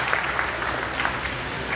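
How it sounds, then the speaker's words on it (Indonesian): A school audience at a motivational talk claps for the guest speaker, a short burst of dense, steady applause from many hands at moderate loudness. "Tepuk tangan untuk narasumber kita."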